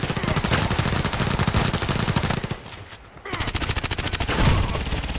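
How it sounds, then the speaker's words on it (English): Rapid machine gun fire in the shooter Contract Wars, loud continuous bursts of evenly spaced shots that break off briefly in the middle, then resume just as fast. "Wow, nice machine gun."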